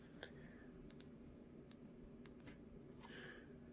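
Buttons on a Ringke Onyx TPU phone case on a Galaxy S24+ are pressed, giving a handful of short, crisp clicks spaced irregularly, close up and fairly quiet over a low background hum.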